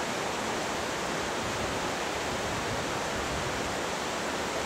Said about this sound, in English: Continuing along the James Creek